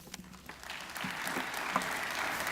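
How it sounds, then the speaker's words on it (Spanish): An audience at a university lecture hall applauding to welcome a speaker, the clapping starting as scattered claps and quickly building into a dense, steady round of applause from a crowd. "La recibimos con un aplauso."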